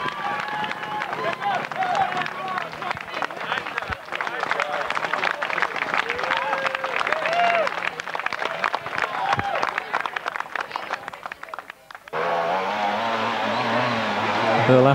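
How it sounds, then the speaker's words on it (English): A crowd cheers and claps at a 1992 World Trials Championship motorcycle event at Watkins Glen, USA, a continuous outdoor roar of shouts and applause with a commentator talking over it. "the crowd are cheering him on"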